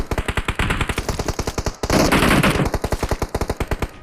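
Rapid automatic gunfire in the PUBG Mobile video game, loud sustained bursts of evenly spaced shots with a brief pause and a denser burst midway.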